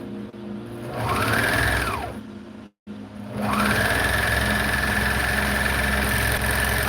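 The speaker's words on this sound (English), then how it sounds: "All I'm doing is just serging up the bottom of my, cleaning up the bottom of my sleeve in case I wanted to do a hem or an elastic." A serger sewing machine serging the bottom edge of a sleeve, whirring in two sustained bursts that each ramp up and wind down, separated by a brief silent pause, close and loud.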